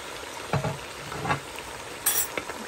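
Tomatoes drop into a frying pan for Pakistani chicken biryani, with a steady sizzle and a few soft stirring scrapes and clinks close by, and no talking.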